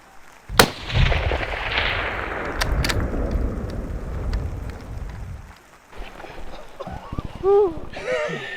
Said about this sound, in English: So Connor settled his eyes on his target and pulled the trigger.